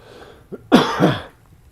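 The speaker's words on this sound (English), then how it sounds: "I'm just going to cough." One short cough up close, a quick breath and then a harsh throaty burst that trails off, in an otherwise quiet room.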